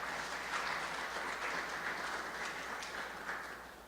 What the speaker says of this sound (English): So give yourselves a round of applause for